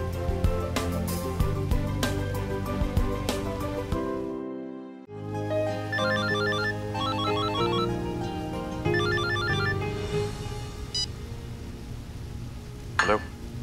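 A telephone ringing in a Hindi TV serial scene, an electronic ringtone chiming in repeated patterns over background music, with a clattering kitchen-like sizzle beneath.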